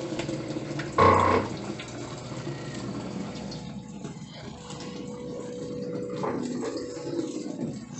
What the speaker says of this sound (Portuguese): Começou a encher d'água.